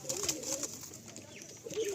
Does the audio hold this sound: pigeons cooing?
yes